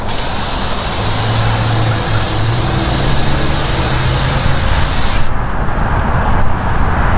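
Filter oil sprays from an aerosol can onto a car air filter in a loud, continuous hiss lasting about five seconds before it abruptly stops, leaving quieter background noise.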